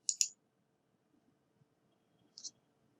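Computer mouse clicking a Create button, heard as a couple of crisp, close clicks at the start and another quick click a moment later in near silence.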